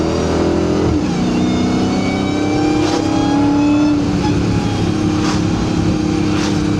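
A Dodge Charger Hellcat engine revs and accelerates in second gear on a wet road, a loud sustained roar with a rising whine that climbs steadily in pitch, heard close from inside the car.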